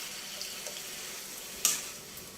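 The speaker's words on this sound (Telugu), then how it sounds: "ఇప్పుడు ఇందులోకి మనం పులుసు పోసేసుకుందామండి. చింతపండు పులుసు." Tamarind juice pours into a pan of simmering bottle gourd and radish pieces, giving a steady soft sizzle and watery hiss with faint splashes and one brief sharp tick, and no talking.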